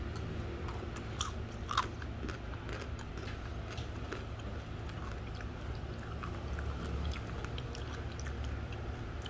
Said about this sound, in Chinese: 哦，小鱼干很酥脆耶